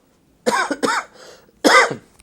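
Three harsh coughs close to the mic, the first two quick together, a pause with a softer breath, then one more forceful cough.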